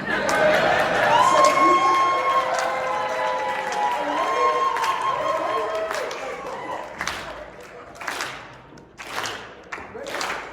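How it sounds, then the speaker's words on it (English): Fan crowd at a Revenge of the Nerds convention panel in Las Vegas claps and cheers loudly and steadily, with voices and whoops mixed in, thinning into scattered claps and thuds toward the end. "if you guys can put your hands together"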